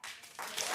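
A short burst of audience applause for a speech by Barack Obama, steady and continuous across the brief moment with no voices over it.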